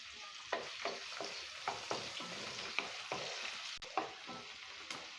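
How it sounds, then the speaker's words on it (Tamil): Finely chopped onion fries in hot oil with cardamom and cloves, a steady close sizzle broken by regular scraping stirs of a spoon against the pan, with no talking. "பொடியாக நறுக்கின ஒரு வெங்காயத்தை இதில் போட்டு வதக்கிக்கலாம்"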